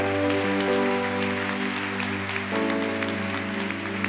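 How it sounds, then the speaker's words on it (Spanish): A church congregation claps during a worship service. The steady, rain-like applause runs under sustained keyboard or organ chords that shift partway through. "Dele fuerte el aplauso al Señor."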